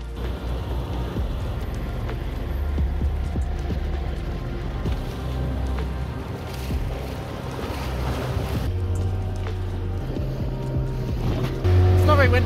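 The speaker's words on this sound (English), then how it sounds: "It's not very windy, but it's super sloppy. So just like this, the chops standing on the paddler." Choppy, sloppy sea slaps and sloshes around a small boat off Stewart Island on a calm-wind day, a continuous splashing wash with a low motor-like rumble underneath and a voice speaking over it in places.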